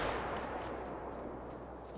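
A 10 gauge semi-automatic shotgun fires in the hunting game Call of the Wild at Layton Lakes, leaving a loud, broad roaring blast that slowly fades over about two seconds, with no voices.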